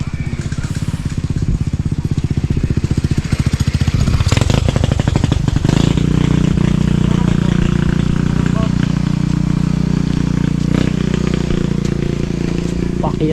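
A motorcycle engine putting along a narrow path too tight for a tricycle, with a rapid pulsing idle that rises to a louder, steadier drone while riding, close up, with voices in the background.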